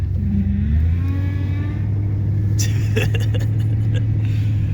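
A supercharged car engine revs hard after a cold start, its steady low drone topped by rising supercharger whine and sharp bursts toward the end; a voice speaks briefly over it.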